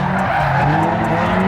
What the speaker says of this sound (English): let's go do some drifting